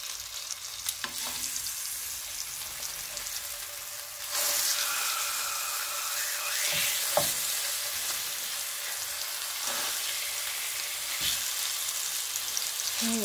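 Salmon fillets frying in a pan give a constant hissing sizzle, which swells louder partway through as they are turned. A spatula adds a few sharp scrapes and taps, and no one speaks.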